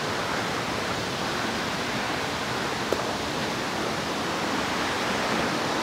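Waterfall in Yokoya Gorge, Nagano, a steady, loud broadband roar of falling water that holds constant throughout, with a single faint click partway through.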